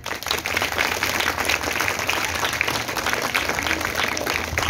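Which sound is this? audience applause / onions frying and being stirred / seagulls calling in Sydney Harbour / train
audience applause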